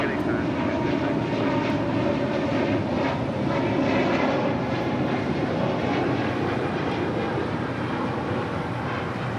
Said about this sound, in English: That was Spirit Airlines Flight 266 heading to Philadelphia in an A320neo.